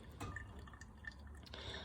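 Hot water poured over coffee grounds in a pour-over brewer, a soft, steady trickle with faint dripping, close and quiet, with no talking.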